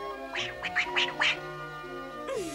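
A cartoon duck quacks in a quick run of four or five nasal calls, then a brief rising squawk. The calls are close and clear over a soft music bed.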